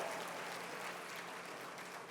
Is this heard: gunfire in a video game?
no